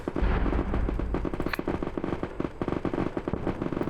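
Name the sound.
frag grenades and gunfire in Frontline Logistics Isarian Warfare video game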